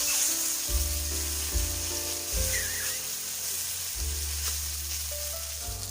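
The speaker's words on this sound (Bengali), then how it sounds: "বেগুনগুলোকে আমি নেড়ে চেড়ে একটু নরম করে ভেজে নেব।" Soft eggplant pieces fry in a pan while being stirred, making a steady sizzling hiss over a droning tonal background hum that shifts in blocks.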